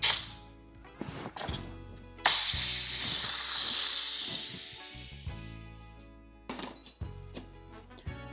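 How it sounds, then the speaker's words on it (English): An Instant Pot vents in a quick pressure release, a loud continuous steam hiss that surges in and runs for a few seconds, framed by clunks and handling sounds before and after. "We're gonna do a quick pressure release."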